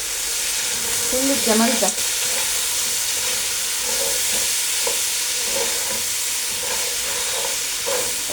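Garlic, ground spice mix and cumin sautéing in a hot pan, a steady close sizzle and frying hiss running throughout with occasional stirring scrapes, a brief voice speaking over it near the end.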